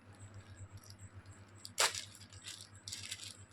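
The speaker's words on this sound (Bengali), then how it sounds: "তো আমি এটা আনপ্যাক করছি।" Unpacking an ordered mangalsutra necklace package: a single sharp crinkle of packaging near the middle, then a few lighter rustles and small metallic jingles, over a steady low hum with no talking.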